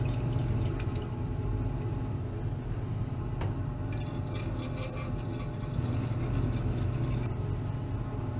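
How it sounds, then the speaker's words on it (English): Distilled water runs over gold precipitate in a soft, steady trickle of rinsing for a few seconds, set against a constant low background hum. "Now we're going to rinse it off a little bit with some distilled water"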